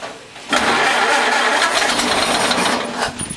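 A Ford Model A pickup engine catches and runs with the throttle opened, a loud, rough, steady mechanical clatter close by that holds for about three seconds after a quiet start.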